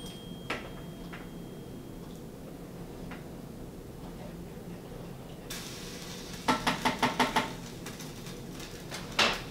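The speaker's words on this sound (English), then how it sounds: "Jake stirring his soup." Someone stirs soup in a pot over a faint background hiss, and the spoon knocks the pot in a quick run of light, evenly spaced clinks.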